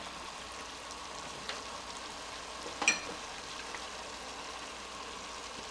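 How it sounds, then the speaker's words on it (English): Garlic goes into vegetables already sautéing in a pan, giving a soft, steady sizzle with a faint clink of a utensil partway through and no talking. "My vegetables have been sauteing for about 6 minutes, and so I'm going to be adding in my garlic."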